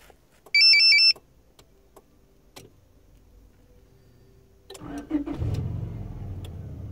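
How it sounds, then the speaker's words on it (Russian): Car engine started remotely with a Tomahawk 9010 alarm system: a short electronic beep from the key fob, quiet clicks, then the engine cranks and settles into a steady idle, close and alone. "машина завелась"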